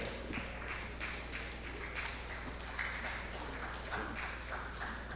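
A conference audience gives scattered, fairly quiet clapping for a speaker from the Geological Society of Africa. Many separate claps tap through a roomy hall without building to a loud ovation.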